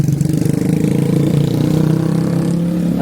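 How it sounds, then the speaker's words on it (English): Loud motorbike engines rumble along a small-town street in Kuala Selangor, Malaysia, a close, steady low drone with a throbbing pulse and some revving, no voices over it. "And lots of loud motorbikes."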